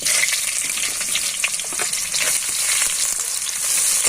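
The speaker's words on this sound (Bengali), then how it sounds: "এবার দিয়ে দেবো পেঁয়াজ কুচি" Chopped onion hits hot oil already fried with whole cumin seeds in a duck curry preparation, giving a steady, loud sizzle with crackling pops and occasional stirring scrapes throughout, no talking.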